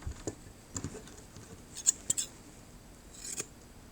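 Groomer shears being test-cut after re-sharpening, left loose, giving a few short, quiet snips spread out over a quiet room.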